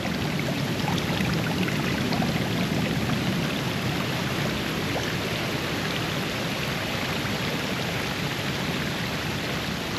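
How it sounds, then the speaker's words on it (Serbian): Spring water flows out of a hillside, a steady, close rushing and splashing that runs unbroken and alone throughout. "odavde voda ide"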